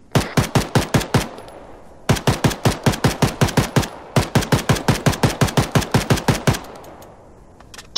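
Automatic gunfire in the video game ARMA 3 comes in three long, rapid bursts of sharp, loud, evenly spaced shots with short pauses between them.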